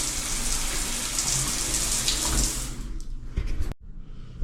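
Shower in a truck stop bathroom running in a steady hiss of spraying water, then cutting off abruptly near the end, leaving quiet.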